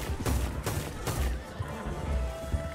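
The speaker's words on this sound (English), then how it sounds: "Good thing this gun has a decent fire rate." Gunfire in the Red Dead Redemption 2 video game: three sharp, loud shots spaced about 0.4 seconds apart, followed by a dense, rumbling in-game battle din.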